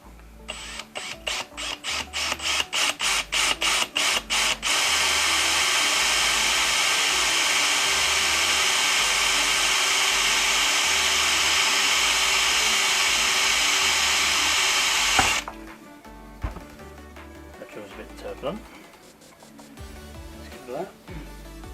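A power drill fires in a few short bursts, then runs steadily and loudly for about ten seconds before stopping, followed by faint clattering, while fitting projector headlights to a Land Rover Discovery 2.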